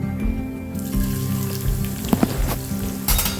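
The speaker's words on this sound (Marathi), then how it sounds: "जिरे छान फुलल्यानंतर यामध्ये मी लसूण टाकून घेणार आहे" Garlic dropped into hot oil with bloomed cumin, starting a burst of crackling sizzle that carries on steadily, with a couple of sharp clinks partway through.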